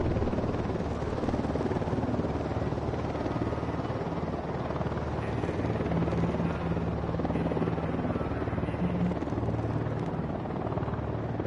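Helicopter on patrol in the Ghost Recon Wildlands video game, a steady rotor drone and thrum holding at constant loudness throughout, close and continuous with no speech.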